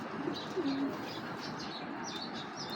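A young racing pigeon hen coos softly in a loft in Bangladesh, a few low calls and faint chirps over a steady background hum, with no clear talk.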